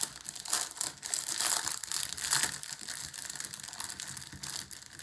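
Small plastic baggies of diamond painting drills are torn open and handled, giving a steady run of close crinkling and crunching with faint rattling, quiet and with no talk.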